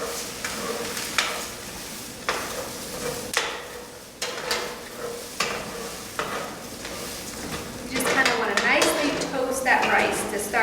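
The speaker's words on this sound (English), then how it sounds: "So now we're going to add our rice and cook until our rice is opaque" Rice toasting in a skillet for arroz con pollo, a low sizzle with regular scraping stirs and knocks about once a second, turning into busier, louder scraping and rattling near the end.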